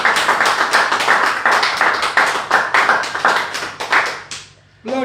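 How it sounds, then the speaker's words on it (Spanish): A church congregation claps together in a dense, rhythmic burst of applause lasting several seconds, close and loud, then it stops abruptly and a voice briefly follows. "Le doy un fuerte aplauso al Señor."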